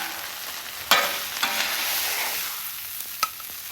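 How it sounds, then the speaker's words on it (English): Spinach sautéing on a flat-top griddle gives a steady broadband sizzle, with a few sharp scrapes and taps of a spatula cutting through the frying. No voices. "there you go, some sauteed spinach"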